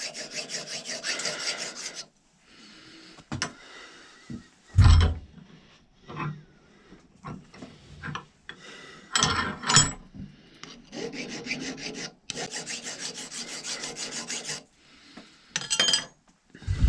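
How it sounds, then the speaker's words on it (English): Metal file rasping across the peened ends of a ramrod pin, heard as several bursts of scraping strokes separated by brief pauses and small clinks, close and fairly clear with no talking. "After I peen both ends of the pin, I'll take a file."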